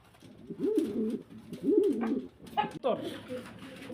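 Quiet pigeons coo in two soft, throaty rolls, followed by a few brief rustles and scratchy movements close by.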